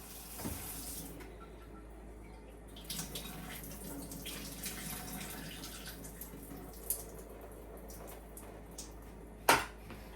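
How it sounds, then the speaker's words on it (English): Cold tap water runs and splashes as salt fish is rinsed in a home kitchen, a low continuous trickle with a few sharper splashes and drips, moderately faint throughout. "I like to rinse it off with a little cold water"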